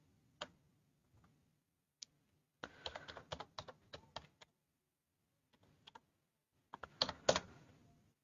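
Crisp clicks from a computer keyboard as a phone number is typed, arriving in short bursts of rapid taps separated by quiet gaps. The keystrokes are close and clear, with no talking.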